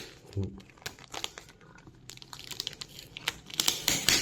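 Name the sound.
unboxing a Fujifilm XF35mm F2 WR lens, crinkling packaging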